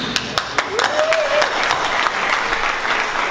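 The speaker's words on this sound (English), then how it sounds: "That clap is for you." Applause from a packed crowd at an 18th anniversary dinner, a dense, steady wash of many hands clapping for about three seconds, with a voice speaking over it and a brief whistle-like cheer rising near the start.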